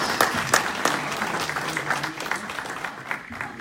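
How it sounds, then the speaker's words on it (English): A meeting audience gives a round of applause, a dense, steady patter of many hands clapping at moderate loudness that carries on for several seconds and thins slightly toward the end. "Everybody, give a round of applause"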